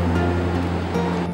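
Ocean waves on a beach, a steady, close wash of surf with a continuous low roar and some wind rumble, no one speaking.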